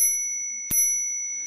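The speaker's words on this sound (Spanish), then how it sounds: "Tenemos por aquí el timbre" ENGWE electric bicycle bell gives a single bright, metallic ding that rings on with a sustained, slowly fading tone, close and clear in a quiet room.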